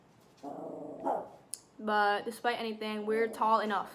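Pet dog at home yips and whines in a run of short, close, high-pitched barks, layered with someone speaking over part of it.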